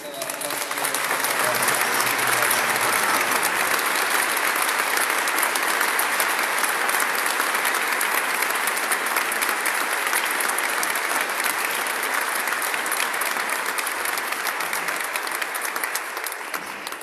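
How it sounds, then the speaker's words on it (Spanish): A crowd applauding at a Pentecost vigil inside a basilica, loud, dense and sustained clapping that carries on steadily for the whole stretch with no pauses. "Por eso también es el aplauso"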